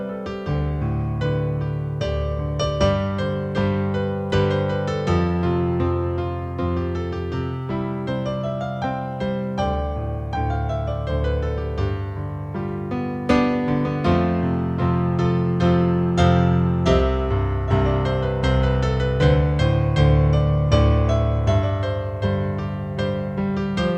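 Piano improvisation in a beginner-friendly style, with scale runs used as passing tones to fill between chords, played continuously for a long, flowing stretch of sustained harmonies and melodic runs, clear and alone.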